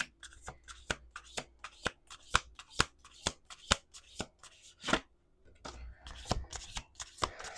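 Tarot cards being shuffled by hand, a quick series of crisp riffling slaps and flutters at close range, with brief pauses between bursts.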